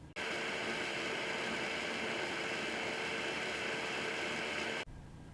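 A kitchen blender whirs through rice and water in one continuous, even, hissing roar lasting a few seconds, then cuts off abruptly.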